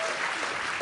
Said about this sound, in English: Let's have a big round of applause for Moira